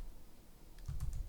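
Keys on a computer keyboard are pressed for a shortcut while sculpting in ZBrush, giving a short cluster of close, crisp taps at the end of an otherwise quiet stretch.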